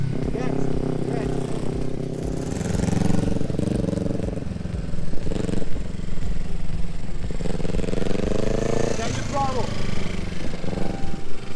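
Motorcycle engine held at a steady throttle during parking lot practice, a continuous mid-pitched drone with small rises in revs, while a person talks over it.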